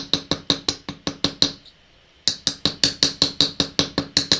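A small riveting hammer taps rapidly on a thick wire rivet in jewelry making, sharp metallic strikes in a steady series, pausing briefly before a second run of evenly spaced blows.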